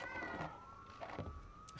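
A cat meows in the PlayStation 5 video game Forspoken: a faint, drawn-out mew sitting low in the mix among quiet game ambience, with no speech.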